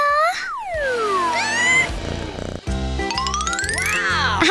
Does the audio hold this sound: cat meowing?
yes